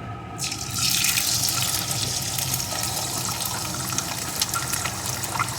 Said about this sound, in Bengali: এখন আমি ফাটানো ডিমটা এর ভিতরে দিয়ে দেবো